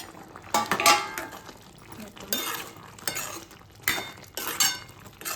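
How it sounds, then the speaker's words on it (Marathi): A spoon stirs dal masala khichdi in a cooking pot, making a few separate bursts of clinking and scraping against the metal, moderately close, with quiet pauses between the strokes. "एकदा हलवून घ्यायचं"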